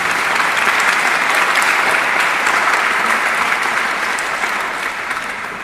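A conference audience at a panel discussion on HR and CSR breaks into sustained, loud applause that fills the room evenly and then tapers slightly near the end, with no voices over it.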